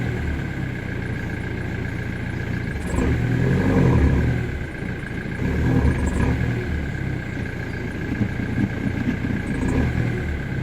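A Ford Mondeo ST, stuck in gear and unable to shift to neutral, idles with a steady low engine rumble and a constant tone, swelling slightly in two brief rev-like surges midway.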